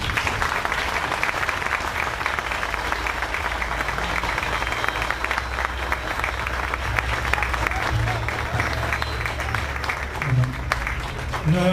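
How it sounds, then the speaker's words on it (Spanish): An audience at a book event gives sustained applause, a steady, moderately loud roar of many hands clapping without pause, with some low rumble and a faint voice near the end. "les pido un fuerte aplauso"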